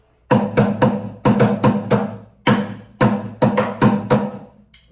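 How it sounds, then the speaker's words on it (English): A homemade drum without a snare, close to a tenor drum, is struck in quick rhythmic bursts of two and three bright, resonant hits, loud and close, with short ringing decays between groups. "this is close to a tenor drum. And this one will sound like this"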